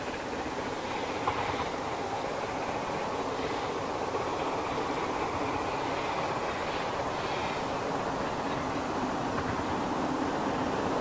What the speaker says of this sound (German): Bei schönster Abendsonne ist ein Regelzug kurz vor Putbus unterwegs